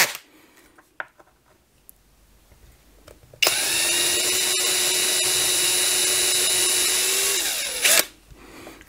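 Power drill fitted with a 3 mm bit boring a channel into a casting mold for lead figures: a steady, loud high-pitched whine runs for about four seconds and then winds down, preceded by a few faint handling clicks.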